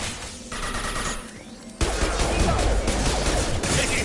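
Heavy automatic gunfire from a Mass Effect 2 firefight, a dense continuous barrage that grows louder and more intense partway through, with bursts overlapping into a steady roar.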